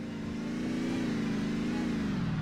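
A car engine revs in The Simpsons Hit & Run, a steady, buzzy mid-pitched drone that rises slightly and then eases off, close and continuous for a couple of seconds.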